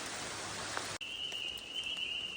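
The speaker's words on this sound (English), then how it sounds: "Maybe a potential home for this rainy evening." Steady rain hisses down on an evening along the Appalachian Trail, then cuts abruptly to a quieter patter of drops with a thin high tone running through it.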